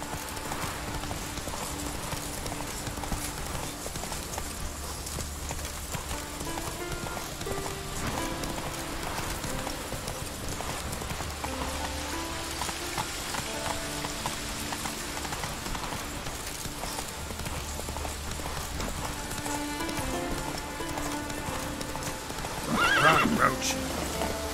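Roach, Geralt's horse in The Witcher 3, gallops with a steady clip-clop of hooves and neighs several times. A rider's voice occasionally speaks over the galloping, and a louder burst comes near the end.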